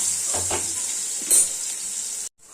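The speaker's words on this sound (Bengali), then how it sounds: "আলুগুলো আমি ভেজে নেব, একটু ভালো করে ভেজে নেব।" Potatoes frying in a pan, a close hissing sizzle with a few soft stirring knocks, cutting off abruptly at the end.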